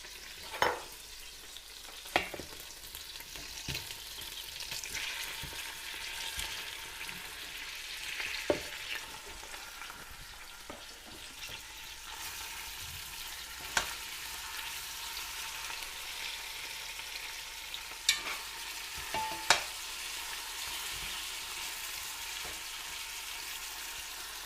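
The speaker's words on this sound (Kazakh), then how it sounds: "Енді қуырылып жатқан көкөністерімізге қосамыз." Vegetables for a split pea soup fry steadily in a pan, a continuous hiss with occasional sharp clinks and scrapes of stirring spaced through the sizzle, close and moderately loud, no voices.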